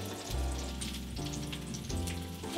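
Broccoli frying in a pan over medium heat, crisping and charring, gives a steady close sizzle and crackle with small pops, running continuously with no talk.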